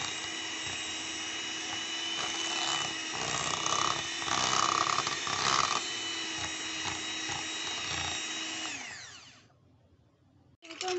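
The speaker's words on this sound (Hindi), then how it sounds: "अब हम इसे अच्छे से बीट कर लेते हैं।" An electric beater whirs steadily while mixing cream, a high buzzing drone with slight pitch shifts, then winds down and stops near the end.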